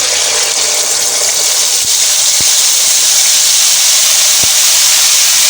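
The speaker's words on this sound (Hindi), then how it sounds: "अब मैं इसके अंदर ये पिसी हुई प्याज डाल दूँगी" Boiled, ground onion paste dropped into hot oil with browned fenugreek seeds, a loud, close, continuous hiss of sizzling oil with a few faint clicks of the utensil, and no one speaking.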